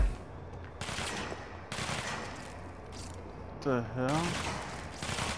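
Enemy gunfire in the video game Control, sustained noisy bursts of shots rattling in clusters with short gaps, loud and close, while someone speaks briefly over it.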